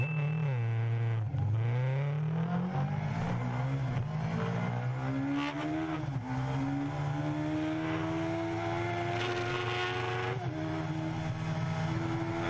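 A carbureted sport motorcycle engine is heard from onboard, revving hard through the gears. It rises in pitch again and again, with abrupt drops at each shift. The sound is close and continuous, and no one speaks.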